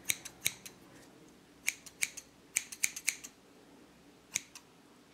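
Scissors snip through hair in quick clusters of sharp metallic cuts, close to the ear with short pauses between bursts and a quiet room behind.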